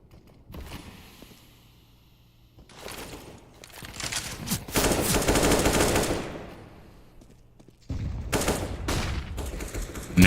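Gunfire in the tactical shooter CS:GO during a tournament match, with a player firing through smoke: bursts of automatic shots that grow louder and denser midway, a brief lull, then more sharp volleys near the end.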